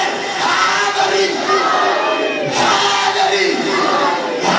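Religious gathering crowd chanting the slogan Haidari in unison, loud massed voices in repeated rhythmic bursts of shouting, close and filling the space.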